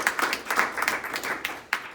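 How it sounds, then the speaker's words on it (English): A small audience at a crypto meetup claps for a speaker, a brief, fairly faint patter of applause with uneven, separate hand claps. "I would ask for another round of applause for Raphael"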